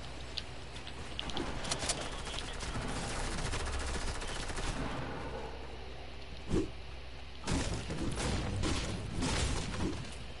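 Rapid video-game gunfire rattles through a shooter match in repeated bursts and scattered single cracks, with loud clusters near the end over a busy background wash.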